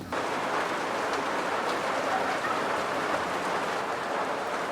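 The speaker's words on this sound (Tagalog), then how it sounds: "Saka naman bumuhos ang malakas na ulan." Heavy rain pours down in a dense, even roar that drums on surfaces without pause.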